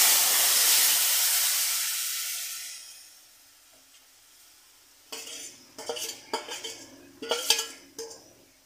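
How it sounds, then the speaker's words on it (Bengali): Broth is poured into a pan of taro leaf curry, raising a loud hiss and sizzle that fades over about three seconds; after a pause, a utensil clatters against the pan several times. "এবার এই ঝোলটা ঢেলে দেব।"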